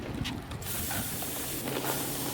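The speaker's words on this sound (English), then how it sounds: "Listen to that sizzle." Tri-tip beef sizzling over a very hot bed of coals on a Santa Maria grill: a steady, soft hiss and crackle with scattered pops, close and fairly quiet, no talking.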